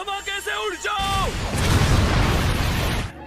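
Explosion in a Hindi-dubbed Jujutsu Kaisen anime: a voice speaks briefly, then a loud, sustained blast and roar fills the rest of the moment before cutting off.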